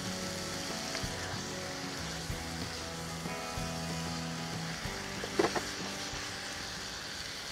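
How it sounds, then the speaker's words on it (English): Pork searing and browning in a hot pan, a steady close sizzle with a low background hum and a brief clatter near the end, no talking. "While I'm waiting for the pork to brown just a little bit, parang sear it a little bit"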